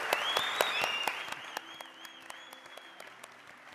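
An audience at the 2025 Lush Spring Prize ceremony applauds a Ukrainian permaculture NGO: steady, dense clapping with sharp individual claps standing out and a few tonal whistles, gradually thinning toward the end.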